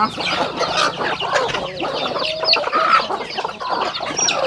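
Several chickens cluck and squawk nearby at a rural home in Thailand in a busy, continuous jumble, with higher bird chirps mixed in.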